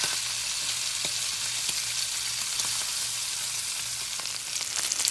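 Ham frying in a pan, giving a steady, close crackling sizzle with scattered pops throughout and no talking.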